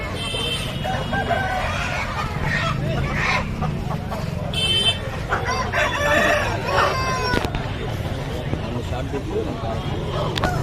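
Several roosters crow and hens cluck repeatedly, fairly close, while people talk loudly throughout at the Nellore Sunday poultry market.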